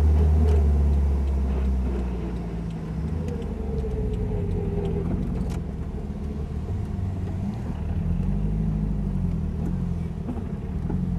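A car rolls back into the Nürburgring Nordschleife car park, its engine a steady low rumble with gentle rises and falls, heard from inside at moderate volume throughout.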